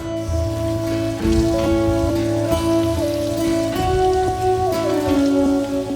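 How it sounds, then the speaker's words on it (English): Beef back ribs being rinsed under running water, a steady broadband splashing and trickling close by that keeps on without pause, with no one talking. "So let's take these out and rinse these, and then we'll dry pat these."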